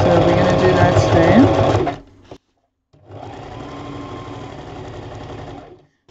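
A sewing machine doing free-motion quilting whirs loudly and steadily up close for two seconds, stops, then starts stitching again at a softer, even pace. A voice talks over it.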